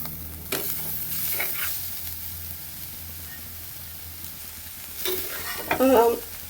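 A spoon stirs tender jackfruit curry with grated coconut in a pan, scraping strokes over a soft constant sizzle, with a louder burst of clattering stirring near the end.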